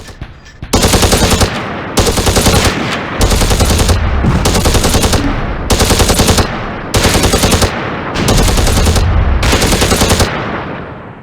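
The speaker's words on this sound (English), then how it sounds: "We're under heavy fire!" Heavy machine-gun fire in long, loud bursts of rapid shots, about eight sustained volleys separated by brief pauses, close and dominant with no talk.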